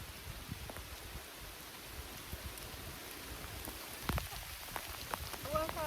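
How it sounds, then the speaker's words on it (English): Heavy rain pours steadily outdoors beneath an oak tree, a dense continuous hiss of drops hitting leaves and ground, with a few louder close drips and thuds near the end. "go away rain. It's cold and horrible."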